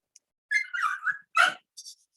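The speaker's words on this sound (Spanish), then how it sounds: "Perdón, que está mi perra ahí." A pet female dog in a room gives several short whining barks in separate bursts, close and fairly clear, with quiet pauses between and no talking.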